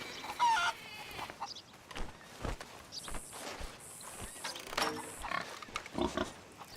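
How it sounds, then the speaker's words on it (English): Java rooster crowing in the Red Dead Redemption 2 game world, in a short rising call near the start, followed by clucking fowl, pig-like grunts and footsteps of farm livestock in a busy outdoor mix. "The Java rooster strikes again."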